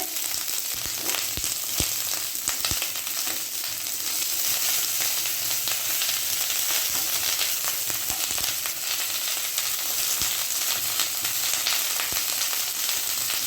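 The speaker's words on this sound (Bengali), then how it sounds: "দেখছেন প্রথমে ফুলকপিটা ভাজছে।" Cauliflower pieces frying in oil in a home kitchen pan for an aloo-phulkopi curry, a steady close crackling sizzle running throughout with occasional sharp pops and scrapes of stirring, no talking.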